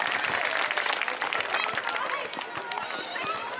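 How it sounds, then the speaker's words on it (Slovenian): A loud, noisy round of audience applause at a school freshman initiation event in Šentvid, dense continuous clapping from a large crowd with some voices mixed in, fading slightly toward the end. "hvala lepa za tak bučen aplavz"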